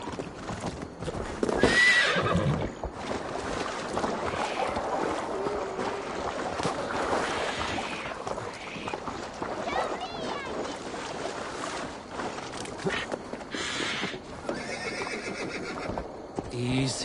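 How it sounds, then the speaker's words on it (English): A horse in the video game Assassin's Creed Valhalla whinnies loudly over rapid, continuous hoof clip-clops, with water sounds and voices mixed in throughout. "call to you, my noble steed, Skin Faxi"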